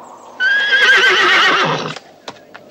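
An old horse on a farm gives one loud, close whinny lasting over a second, its wavering pitch falling away. A few faint knocks follow.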